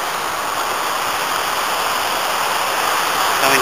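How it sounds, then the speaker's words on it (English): A small cascade of waterfalls on a mountain stream in Cwm Llan, giving a steady, loud, broadband rush of falling water that stays constant throughout, with no voices. "Little cascade of waterfalls"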